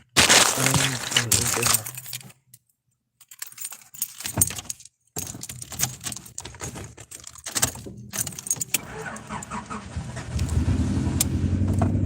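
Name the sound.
car engine being started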